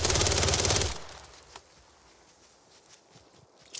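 A long automatic burst from an SMG in Call of Duty Warzone rattles loud and close for about a second, then stops, leaving faint clicks and shuffling movement.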